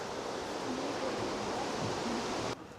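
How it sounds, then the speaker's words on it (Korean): Constant rushing water from a waterfall in Austria, broadband and steady, heard from a short distance, then the roar drops suddenly near the end. "여기 폭포 있나 봐요"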